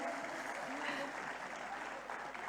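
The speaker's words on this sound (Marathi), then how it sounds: "इतक्या जबरदस्त डान्ससाठी एकदा जोरदार टाळ्या तर झाल्याच पाहिजेत." Audience applause after a dance performance at a stage event, dense and continuous clapping from a crowd, steady and fairly loud, with some voices mixed in.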